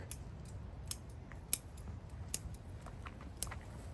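Pruning shears snip through deodar cedar branches outdoors: about five sharp, crisp clicks at irregular intervals, close and distinct over a quiet background.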